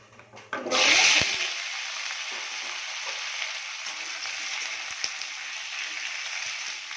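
A spoonful of panch phoron spices dropped into hot oil in a kadai bursts into a loud hiss, which settles into a steady, close crackling sizzle with a few small pops and no voices.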